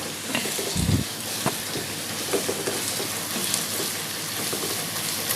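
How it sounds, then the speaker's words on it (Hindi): Garlic paste frying in hot oil for a potato and cheese curry gives a continuous, even sizzle and crackle with a few stirring knocks, close and fairly loud. "ये मैं अब इसमें डालूँगी लहसुन का पेस्ट। अब इसको मैं इसमें फ्राई कर लूँगी"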